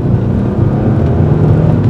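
Naturally aspirated Mercedes CLK 320 convertible engine pulling hard under acceleration, a steady loud low drone with road and cabin noise, continuous throughout with no talk.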